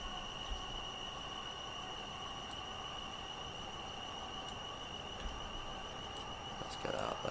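A five-coach Class 444 electric train runs along the South West Main Line in Train Sim World, giving a steady rolling drone with sustained whining tones and a few faint clicks, then a brief rattling burst near the end.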